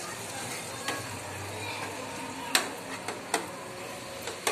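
Tomatoes mashed in melted butter in a pan for pav bhaji give a quiet, steady sizzle broken by a few sharp scraping taps of the masher against the pan.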